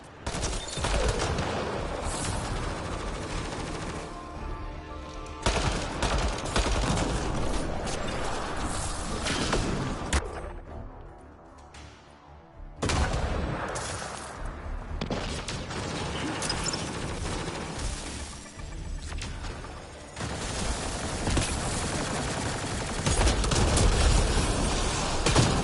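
Sustained bursts of rapid gunfire and mechanical clatter from Mass Effect Andromeda, loud and dense throughout, with brief lulls between volleys.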